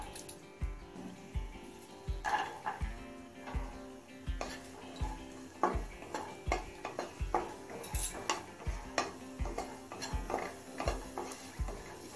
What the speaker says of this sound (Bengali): গাজরটা হাই ফ্লেমে কিছুক্ষণ ভেজে নিচ্ছি